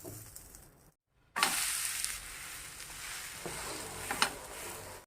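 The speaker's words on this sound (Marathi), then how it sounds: "आपण हे पलटून घ्यायचंय आता आपल्याला, म्हणजे इकडली साईड पण आपण छान भाजून घ्यायची।" An onion uttapam made with idli rava sizzles steadily on a hot pan after being flipped. A brief silent gap comes early, then a louder, continuous frying hiss with a few soft knocks.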